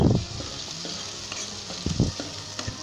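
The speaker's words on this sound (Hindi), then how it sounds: "मज़ीद हम 2 से 3 मिनट तक इसे अच्छे तरीके से जो है ऑयल के अंदर फ्राई करेंगे" Ginger, green chilies and onion frying in hot oil in a pan for a potato and moong sabzi, with a steady sizzle and occasional louder stirring scrapes.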